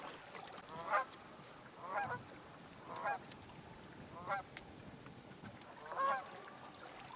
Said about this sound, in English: It's sure nice to hear those geese